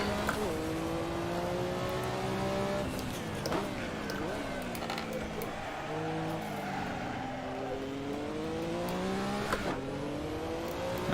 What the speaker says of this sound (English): Oh, I hit the rev limiter.